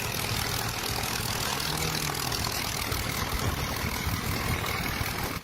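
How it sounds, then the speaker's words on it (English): Homemade small aircraft with a simple frame and basic engine speeding across sand toward takeoff; a steady, loud engine drone fills the whole stretch, with a low hum underneath. "Despite its simple frame and basic engine, the machine picks up speed and eventually lifts off."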